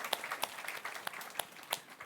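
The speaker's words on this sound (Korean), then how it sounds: "우리 크게 박수로" A church congregation clapping in blessing, fairly faint and somewhat sparse claps with a few sharper strikes standing out, heard from a moderate distance.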